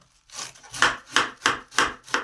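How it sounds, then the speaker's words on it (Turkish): Wild greens being chopped very finely with a knife on a board for a Giresun-style ot kavurması: about six crisp, evenly spaced strokes, close and steady, with no talking. "Mümkün olduğu kadar elimizden geldiğince ince doğramamız gerekiyor otlarımızı."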